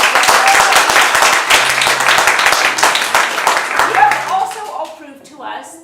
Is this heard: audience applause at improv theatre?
yes